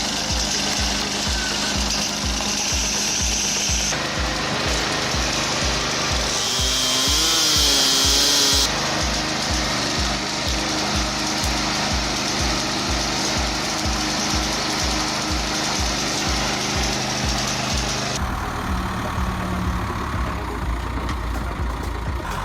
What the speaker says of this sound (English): the machine cuts and splits wood precisely and quickly